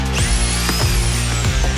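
A power drill with a large bit whines at high speed with rhythmic knocking and grinding as it bores into garage brickwork, loud and close.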